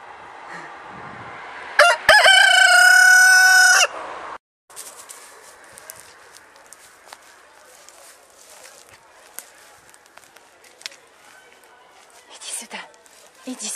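A rooster lets out one loud, close crow lasting about two seconds, followed by quieter scattered clucks, rustling and a person talking.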